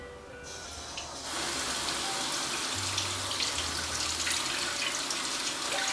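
Tap water running steadily into a sink for a rinse, a continuous close hiss and splash that swells slightly after the first second and keeps flowing without pause, no talking.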